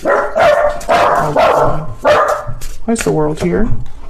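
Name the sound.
dogs barking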